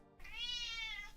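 A single cat meows once, a clear, drawn-out tonal cry heard faintly and alone in a quiet room.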